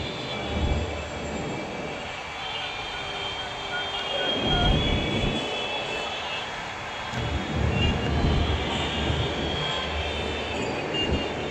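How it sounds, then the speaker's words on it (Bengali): Trains moving through Sealdah railway station, heard from an elevated spot above the platforms: a steady rumble of rolling stock and wheels that swells twice, with squealing wheel tones and a busy station hum throughout. "দেখুন আজকে আপনাদেরকে শিয়ালদা স্টেশনটা দেখাচ্ছি ওপর থেকে।"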